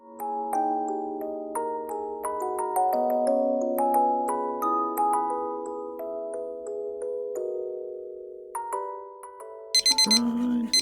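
An electronic timer alarm plays a bright, steady run of melodic beeping tones, loud and close, then briefly changes pitch near the end.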